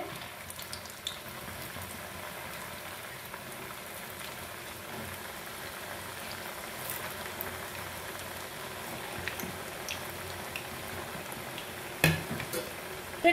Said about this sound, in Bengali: মিষ্টিগুলো ভাজা হচ্ছে, হতে থাক।